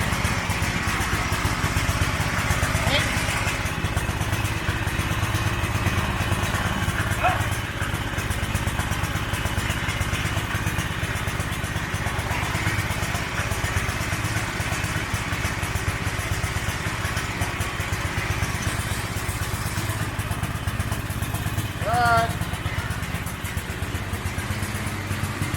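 A homemade go-kart built from a mower engine runs with its wheels engaged, a steady close, chugging engine drone that holds throughout with little change in speed.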